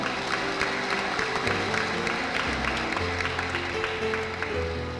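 Audience applause after a call to welcome the Metropolitan Archbishop of Caceres at a canonical erection ceremony for the Diocese of Libmanan, a steady wash of clapping over sustained organ or keyboard chords that carries through.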